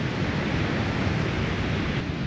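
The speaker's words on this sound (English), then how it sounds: "But the waves are definitely big." Large ocean waves break on a beach, making a loud, dense roar and wash that holds steady and close, mixed with wind, with no voices heard.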